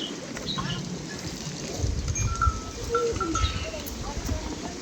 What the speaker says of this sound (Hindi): ये सारी मेरी भैंसें हैं।